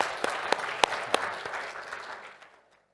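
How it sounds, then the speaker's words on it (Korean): A church congregation claps to welcome a returning family during a Sunday service, with scattered, uneven claps that thin out and fade to silence. "일어나시면 우리 환영의 박수 하겠습니다"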